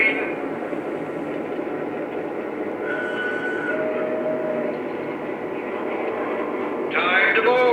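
Lionel Aberdeen, Carolina and Western E9A model train set playing its departure sound effects: a continuous rumbling locomotive drone with brief tonal whistle or announcement snippets, growing slightly louder near the end.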